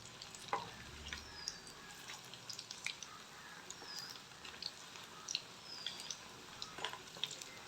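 Colocasia (taro) leaves frying in a pan, giving a steady, moderately quiet crackle with scattered sharp pops and spits throughout.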